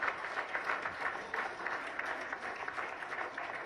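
Members of the BJP legislature party in Odisha applaud together at a party meeting to choose their leader, a continuous round of clapping heard somewhat faint and distant, with no speech over it.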